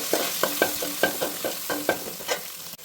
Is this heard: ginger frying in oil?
yes